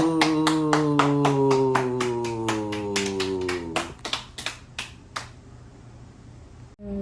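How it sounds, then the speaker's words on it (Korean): People at a summer church camp clap in a rapid, rhythmic series of sharp claps under a sung tone that slides downward. The pattern breaks into a few scattered claps before stopping. "박수"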